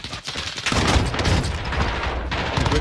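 Gunfire in a tactical shooter game comes in a dense, loud burst of rapid automatic shots that runs almost continuously from just after the start to the end.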